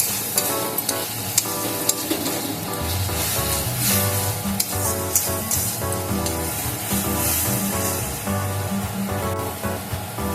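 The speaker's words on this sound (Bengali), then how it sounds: "এই মশলাটাকে খুব ভালো করে কষিয়ে নেব তেল ছাড়া পর্যন্ত।" Spice paste for a Bengali colocasia and prawn curry sizzles and crackles loudly in hot oil as it is stirred and scraped in the pan, a continuous dense frying hiss with no talking.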